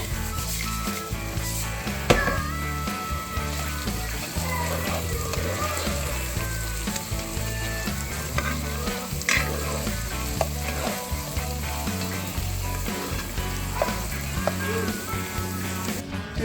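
Onions for a cioppino seafood stew sizzle steadily in a hot pan, with continuous frying and intermittent scraping and stirring strokes throughout.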